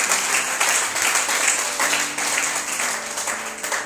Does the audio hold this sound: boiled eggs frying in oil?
no